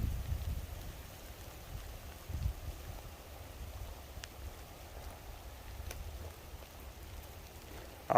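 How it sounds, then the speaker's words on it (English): Steady rain falls during a thunderstorm on the Pacific Crest Trail, a soft continuous wash of drops with low rumbling gusts, heard close and alone at a fairly quiet level with a few sharper taps. "It's raining."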